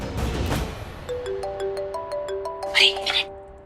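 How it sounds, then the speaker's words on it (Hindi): A phone ringtone plays a rising electronic melody of repeated tones, fairly close, after a brief burst of speech at the start. "ये फोन की आवाज यही कहीं से आ रही है।"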